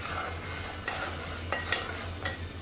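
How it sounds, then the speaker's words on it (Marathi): Flour mixed with salt for chakli dough is stirred in a bowl, giving soft scraping and rustling with a few sharper scrapes, close and fairly quiet over a low hum. "छान हलवून घ्यायचं आहे आपल्याला"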